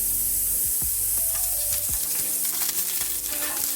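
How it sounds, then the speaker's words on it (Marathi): Four or five green chillies roast in a little oil in a pan, a close hissing sizzle with a few soft knocks as they are moved around. "4-5 हिरव्या मिरच्या घ्यायच्या आणि चांगल्या थोडंसं तेल टाकून भाजून घ्यायच्या"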